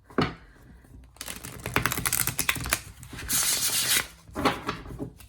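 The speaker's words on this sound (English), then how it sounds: "to give it a good riffle shuffle. And it bridges incredibly, and it makes such a beautiful sound." A tarot card deck being riffle shuffled by hand, a close, crisp flurry of rapid card flicks in several bursts with pauses between them, no talk.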